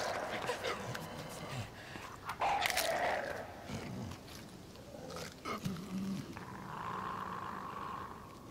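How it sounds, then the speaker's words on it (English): A dog in the video game Inside growls and snaps while chasing the player, with rough snarls and sharp biting bursts amid scuffling game sounds and a low musical drone. "We just escaped another dog."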